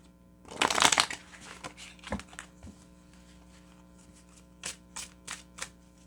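Tarot cards are shuffled in one brisk, close riffle, then a few softer taps and flicks follow against a steady low hum.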